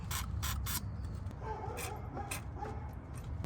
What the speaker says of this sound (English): spray a little bit of PB Blaster on these threads here